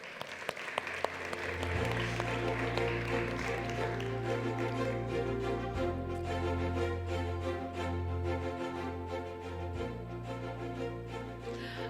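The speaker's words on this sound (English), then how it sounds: "Let's give him a round of applause." Steady applause from a seated audience at a startup pitch event, loud and even and lasting about twelve seconds, while a low electronic tone hums underneath.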